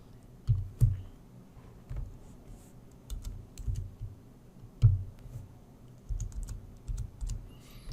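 Soft, close clicks of a computer keyboard as a birthday is typed into an account form, arriving in short irregular bursts with brief pauses, quiet and with no talk.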